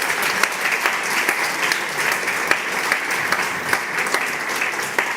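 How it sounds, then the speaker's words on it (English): Applause from an audience at a startup expo summit in Germany, many hands clapping in a lively, crackling patter that stays fairly even and sustained throughout, with no talking over it. "Can I please get one more really loud round of applause for Max, for Fabian, and for all the showcas"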